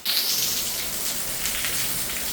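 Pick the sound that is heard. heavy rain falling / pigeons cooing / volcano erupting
heavy rain falling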